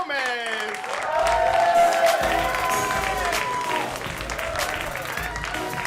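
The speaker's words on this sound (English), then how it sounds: "Big round of applause for Joey Villagomez." A comedy club audience breaks into sustained applause and cheering for a Chicago stand-up comedian, with music and an announcer's voice over the crowd.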